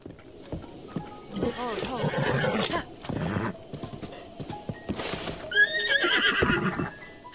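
A horse neighs and whinnies amid clip-clopping hooves and game-like effects in The Legend of Zelda: Breath of the Wild, with a person talking over the sounds.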